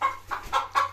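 An agitated hen in a henhouse gives four quick, loud clucks in an even rhythm, close by, over a faint steady hum.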